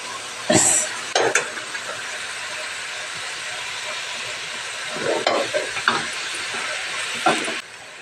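Drumstick leaf stir-fry with grated coconut frying in a pan, a steady close sizzle and hiss broken by a few sharp scraping stirs near the start and again toward the end, with no talking.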